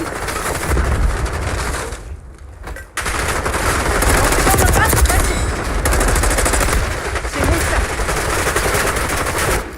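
Loud, dense automatic gunfire from a video game shooter rattles almost nonstop, with a short lull early on before the rapid bursts resume.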